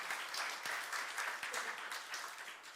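A church congregation's youth service breaks into sustained applause during a sermon, a dense, steady crowd clapping that fills the whole moment without pause.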